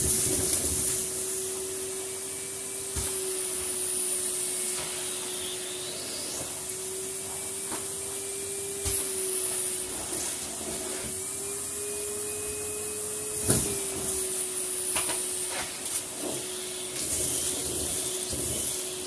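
Numatic Henry and James vacuum cleaners run with a steady motor whine and a high hiss, carrying on continuously with occasional bumps and knocks as they are used for pile attack.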